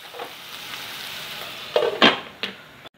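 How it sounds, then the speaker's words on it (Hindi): Potatoes cook in a pan for a drumstick-flower sabji, a soft low sizzle under a few brief stirring scrapes and a clink of the spoon near the end, close and quiet, with no talking. "अच्छे से मिक्स करेंगे और 5-7 मिनट तक इसको पकाएंगे"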